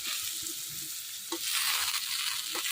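Cauliflower frying in a pan for a vegetarian curry made without onion or garlic, a steady close sizzle with a brief louder hiss as pieces settle and a few faint stirring taps, no talking.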